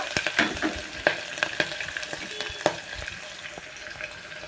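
Spices for rice tempering sizzle and crackle in hot oil, with sharp pops and a stirring spoon scraping the pan, close and moderately loud with no talking.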